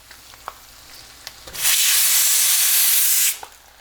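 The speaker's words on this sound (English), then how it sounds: "So I'm adding 8 green chilies along with 2 red onions, very thinly sliced." Eight green chilies and two very thinly sliced red onions hit hot oil in a pan, bursting into a loud, steady sizzle that lasts about two seconds after a few faint clinks, then cuts off abruptly.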